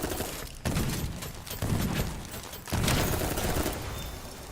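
Sustained machine gun fire in the mecha game Dolls Nest comes in three long, dense, loud bursts separated by brief pauses.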